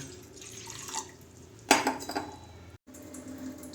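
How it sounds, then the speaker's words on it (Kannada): Water splashing into a metal pot for cooking chopped pineapple, with clinks of the vessel and a brief gush in the middle, close and fairly quiet, no talking. "ಮೊದಲಿಗೆ ಒಂದು ಪಾತ್ರೆಗೆ ನೀರು ಹಾಕಿ ಒಂದು ಗ್ಲಾಸು ಪೈನಾಪಲ್ ಬೇಯಕ್ಕಿಡೋಣ"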